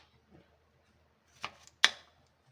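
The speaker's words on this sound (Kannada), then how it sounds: "ಕಟ್ ಮಾಡಿ ಒಂದು ನಾಲ್ಕು ಪೀಸ್ ಥರ ಮಾಡಿ" A knife cuts through a tomato into four pieces while preparing sambar: a faint tap, then two crisp, separate slicing chops close by in an otherwise quiet kitchen.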